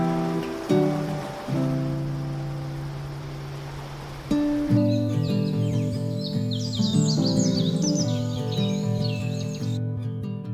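Varied bird calls and chirps ring through a dense Brazilian rainforest canopy, with steady tonal songs overlaid by a busier flurry of sharp chirps midway, continuous and fairly close against a soft rustling background.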